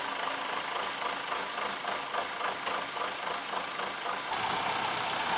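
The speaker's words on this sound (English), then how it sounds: "We start by turning on the tractor." A farm tractor engine idles steadily at close range before barn cleaning on a dairy farm, a continuous broadband rumble with no talk over it and a slight shift in tone near the end.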